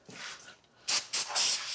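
Short bursts of aerosol cleaner hiss onto a transmission part, three loud close sprays in quick succession after a quieter rustle.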